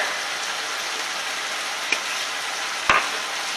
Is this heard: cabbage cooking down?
yes